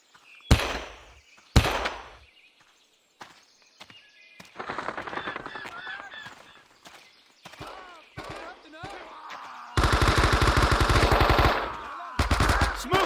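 Rifle and machine gun fire in Men of Valor's Da Nang mission: two loud, close single shots, then scattered shots and shouted voices, ending in sustained rapid machine-gun bursts near the end.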